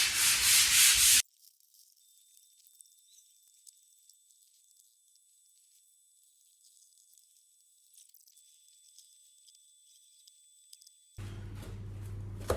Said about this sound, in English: don't go crazy on the sanding